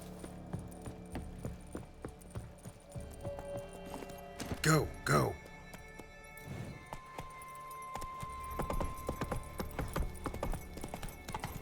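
Horse hooves clip-clopping in The Witcher 3 on PC, a quick run of hoofbeats with a whinny near the middle, over a game soundtrack and ambient noise, with a voice speaking briefly.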